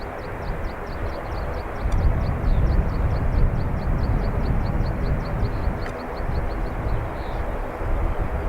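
An aircraft coming in to land on the southern arrivals runway at Dublin Airport makes a steady, broad engine roar that swells slightly and holds throughout, with faint rhythmic chirps above it.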